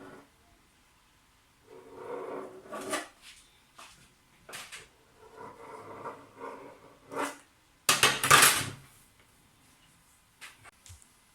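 Nigerian meat pie dough being cut with a cutter, a series of intermittent scraping and tapping sounds in bursts, close up, ending with a louder, harsher stroke.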